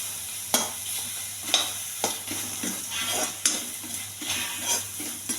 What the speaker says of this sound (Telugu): టమాటా కొంచెం బాగా మగ్గనివ్వండి.